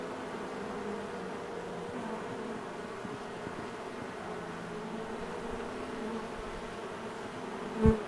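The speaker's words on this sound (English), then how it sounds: "there was a swarm in this cherry tree" A honey bee swarm in a cherry tree gives a steady, dense buzzing drone that holds evenly throughout, with a short louder thump close by at the very end.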